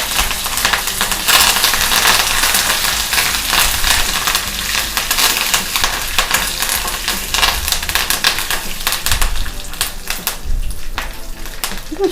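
Cumin seeds, dried red chillies and curry leaves crackling in hot oil for a gooseberry coconut chutney tempering, a loud, dense, close sizzle with sharp spluttering pops throughout, no voices.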